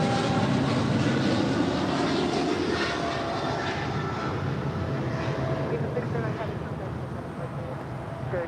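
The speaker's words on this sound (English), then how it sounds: "That was EVA Air Cargo 609 departing to Taipei on a 777 freighter." EVA Air Cargo Boeing 777 freighter departs from LAX bound for Taipei, a broad, loud roar of jet engines that slowly fades while a voice talks underneath.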